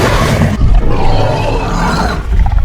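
Indominus Rex call from the Dinosaur Simulator game: a loud, continuous roaring growl alone, rumbling deep with a rough upper edge, swelling again toward the end.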